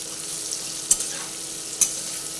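Red amaranth stems being stirred in a frying pan for a vegetarian dish, giving a steady soft sizzle with two brief scraping clicks of the spoon against the pan.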